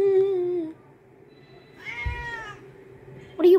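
A house cat meows nearby, first in one drawn-out call and then in a shorter one that is cut off at the end. Soft room sounds and faint movement fill the gaps between the calls.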